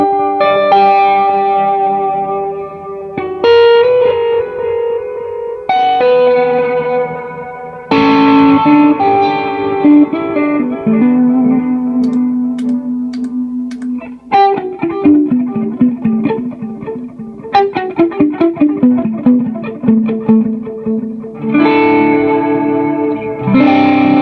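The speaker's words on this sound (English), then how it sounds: "Then I go to a deluxe memory man setting that I made on the timeline" Electric guitar played through a pedalboard on a Deluxe Memory Man–style delay setting, with sustained chords and picked notes trailing echoes and chorus shimmer, loud and continuous with no talking.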